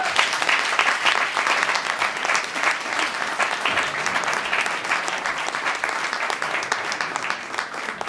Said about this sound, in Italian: Un applauso a Marilio